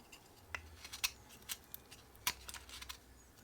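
A knife carves the corners off a wooden wand, making soft, quiet scraping cuts with faint crisp clicks spaced irregularly, close and alone.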